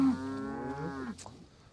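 A dairy cow on a farm lets out a single long, close moo that tapers off after about a second, leaving faint rustling behind.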